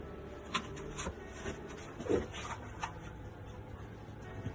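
A taping knife scrapes excess drywall mud off inside-corner tape in a few soft, close strokes, with short rasping swipes and a slightly louder pass near the middle.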